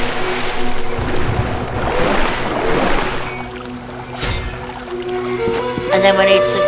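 A character swims in a lake in a Tomb Raider level, with splashing, sloshing water and bursts of wash under steady tonal game ambience, while a voice talks throughout.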